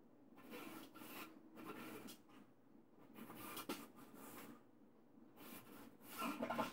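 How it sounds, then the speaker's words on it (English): Cloth rubs and wipes excess silicone-based lubricant off garage door parts in short, soft, repeated strokes with brief pauses between them, fairly quiet and close. "After applying, just wipe off any excess."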